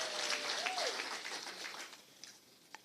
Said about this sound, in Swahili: Situpigie waziri makofi kwa sababu ya kukututembelea.